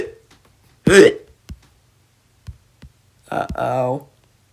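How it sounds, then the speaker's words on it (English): A cartoon character, the Numberblock 13, hiccups in a quiet scene, a sharp vocal hiccup followed by a few soft clicks, then a longer voiced sound, close and alone. "Oh no, 13's got the hiccups."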